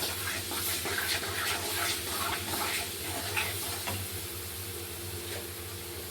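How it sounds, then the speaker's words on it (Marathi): Garlic sizzles in two spoons of hot oil for a bitter gourd dish, giving a steady, fairly loud bubbling hiss with small crackles throughout and no talking. "2 चमच तेल घातलंय. त्यामध्ये सर्वात पहिले घालायचं लसण. लसण चांगला फ्राय करून घ्यायचा."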